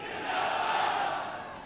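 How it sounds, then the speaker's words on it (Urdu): A large political rally crowd roars and chants a slogan together, a broad swelling mass of voices that rises and then eases off over a couple of seconds. "میرے ساتھ مل کے نعرہ لگائیں"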